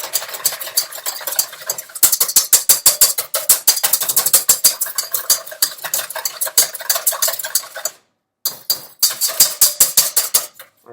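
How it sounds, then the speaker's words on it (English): A whisk beating eggs for an omelette in a bowl, rapid loud clattering strokes in a steady fast rhythm, close up, with a brief pause near the end before the beating resumes. "we're going to take the whisk"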